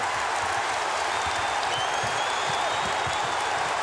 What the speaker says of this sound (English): The crowd responding to the Dikembe Mutombo